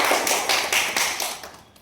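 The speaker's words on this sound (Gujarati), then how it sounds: "પહેલા બધા માટે એકવાર જોરદાર તાળી પાડો" An audience at a Gujarati suspense-thriller film launch ceremony claps loudly in a dense burst of applause that fades away within about two seconds.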